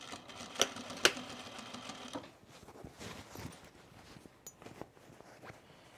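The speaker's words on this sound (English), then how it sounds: "I'm gonna sew this on." Sewing machine stitching piping onto a baby bag, a couple of sharp clicks followed by a faint, uneven whir of short stitching runs with soft handling noises.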